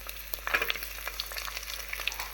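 Whole garlic cloves sautéing in a pan for a fish curry, a soft, crackling sizzle with scattered sharp pops and spits, moderately quiet and without voices.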